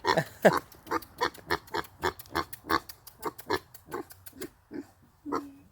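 A Kunekune pig grunts repeatedly in short, close bursts, a steady series of snorty oinks with brief pauses between them.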